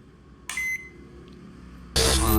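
A microwave oven under repair, its door switch wired directly, gives two loud electronic beeps as it powers on, a short one and then a longer one, over a low hum.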